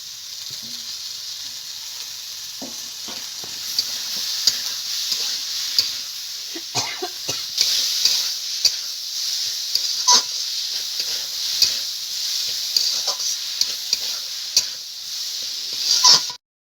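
Grated potato frying in a hot pan gives a steady, close sizzle and hiss that runs throughout, broken by frequent soft scrapes and clicks of stirring.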